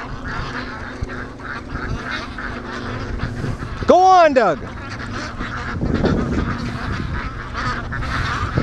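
Ducks on a lake quack and honk, with one loud, clear call standing out amid a scattering of fainter calls and splashy background; someone speaks briefly over it.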